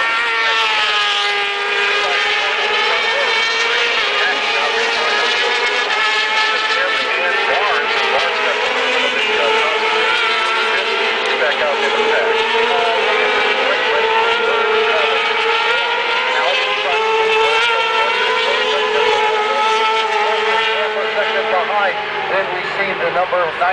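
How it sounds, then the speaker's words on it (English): Racing motorcycles, a pair of Kawasakis chasing a Honda on a road course, whine at high revs with rising and falling engine pitch, loud and continuous under steady commentary. "a pair of Kawasaki's trying to reel in that Honda"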